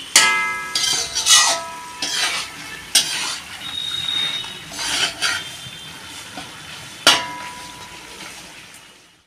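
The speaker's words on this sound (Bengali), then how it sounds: "দেখো কত সুন্দর নাড়া হচ্ছে" Mutton is stirred in a large kadai with a metal spoon, giving repeated scraping strokes and clinks over a soft sizzle that slowly fades toward the end.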